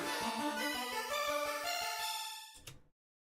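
A synth pad with its left channel delayed by 17.1 milliseconds for a widened stereo sound plays bright sustained tones over a soft pulsing low pattern, then swells briefly and cuts off into silence.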